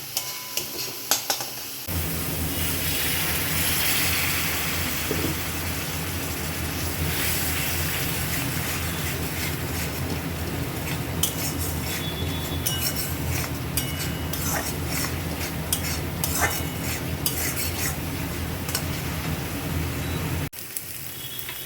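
Spice paste frying with a little water for an egg curry, a dense, continuous sizzle and bubbling hiss that holds steady for about twenty seconds, with scattered scraping stir strokes, close up and with no talking.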